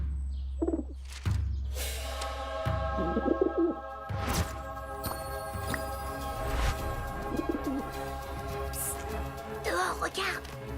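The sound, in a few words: pigeon cooing in a classroom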